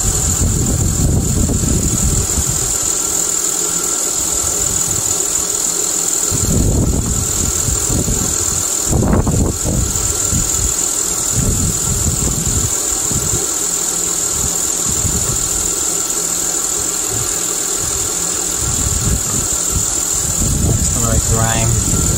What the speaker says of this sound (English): Just let the engine warm up.